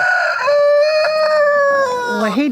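A rooster crows loudly and close by in a farm's chicken area beside a family-run store and cafe, one long drawn-out call that rises and then trails off, with other faint farmyard sounds behind it.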